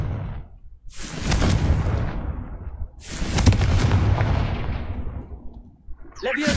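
Confringo spell blasts in a video game: two loud, booming explosive bursts with long rumbling decays, separated by a brief quieter gap, followed by a sharper crackle at the end.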